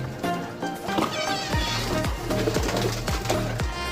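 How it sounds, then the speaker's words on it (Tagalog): Pigeons coo in a racing pigeon loft with soft, repeated throaty calls and some flapping and scuffling close by. "pasukin natin yung kalapati ni Sir Batsit"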